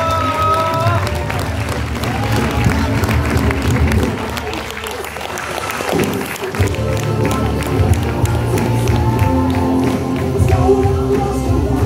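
Loud, sustained applause from a crowd fills the space with dense clapping and some shouts and cheers, dipping briefly midway before swelling again, with music or voices mixed underneath.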